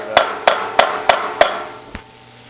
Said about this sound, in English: We might have to hammer those out.